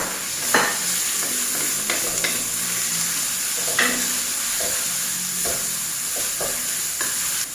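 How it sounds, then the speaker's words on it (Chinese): Minced pork stir-fries in a hot wok for Thai basil pork, with a continuous close sizzle and recurring scrapes and knocks of the spatula as the meat is tossed, and no talk. "然后就把肉放进去炒"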